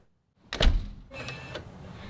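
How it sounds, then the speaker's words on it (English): An Aqara U50 smart deadbolt locking itself on a home door: a short sharp clunk from the bolt, followed by about a second of quieter whirring from the motor, close by with no talking. "And just like that, the Aqara U50 automatically locked."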